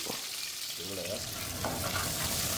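Green chillies and chopped onions hit a pan of frying cashews for a veg paneer biryani, giving a steady, close sizzle with stirring scrapes throughout and no talk.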